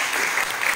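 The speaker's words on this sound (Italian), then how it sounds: "Un applauso" A crowd applauds at a sports talk event, a brief burst of dense, loud clapping.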